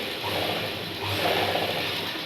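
Sewing machine running continuously as it stitches a double seam on the seat area of straight pants, a loud close mechanical whir with a rhythmic ratcheting hum and no talking.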